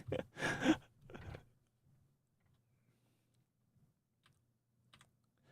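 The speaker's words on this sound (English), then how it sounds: "I guess I'm typing?" A few loud keyboard clacks at the start, then sparse, faint key taps scattered through near silence.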